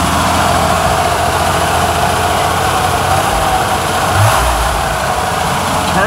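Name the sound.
1963 Chevrolet Corvair engine idling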